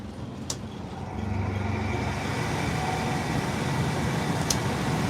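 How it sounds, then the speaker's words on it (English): An air conditioner compressor on a boat kicks in about a second along, becoming a loud, steady mechanical drone with a couple of faint clicks. "when the air conditioner's on, that compressor kicks in"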